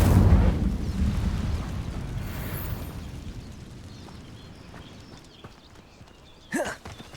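A spell burst in the video game Hogwarts Legacy: a loud whooshing blast of fire at the start fades into a rumbling tail, followed by a brief bright magical flare near the end.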